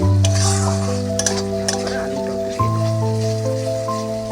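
Spices being stir-fried for vegetarian potato dum, a short burst of sizzling with a few scraping knocks of a spatula, under loud tonal music.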